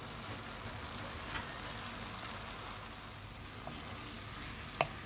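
Onion with fresh fenugreek (methi) leaves frying in a pan, a steady soft sizzle throughout with a few faint clicks of stirring, no talking.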